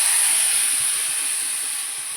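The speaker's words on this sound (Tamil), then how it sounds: "இப்போ நம்ம புளி கரைசல் கொஞ்சமாக சேர்த்துக்கலாம்." Tamarind water is poured into a hot frying pan for vangibath, giving a loud, steady steam hiss that fades slowly over about two seconds, with no voices.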